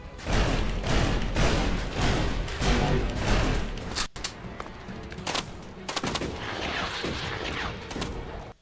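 Rapid bursts of plasma rifle fire from the video game ELEX ring out loudly and continuously, one volley after another, with a brief break before the shooting resumes in a denser spray.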